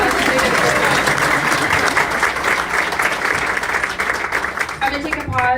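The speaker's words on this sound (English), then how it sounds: "Can we give these guys a round of applause?" A crowd at a community meeting breaks into loud, sustained applause, steady clapping throughout with voices audible beneath it and a few scattered claps as it tapers at the end.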